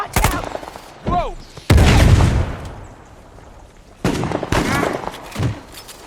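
Shotgun blasts ring out in the Uncharted 4 video game as heavy, booming bursts in a few loud clusters separated by quieter gaps, with shouting voices mixed between the shots.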